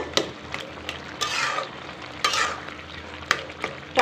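Spoon stirring bottle gourd curry in a pan, a soft scraping and sizzling with several distinct stirring strokes at irregular intervals, close and moderately loud with no talk.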